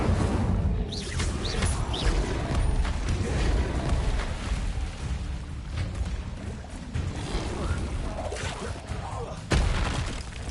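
Spell effects in Hogwarts Legacy: whooshes, booms and shattering bursts scattered through the game's busy action, with a sharp impact near the end and a voice calling out in between.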